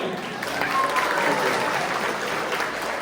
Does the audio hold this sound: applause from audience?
yes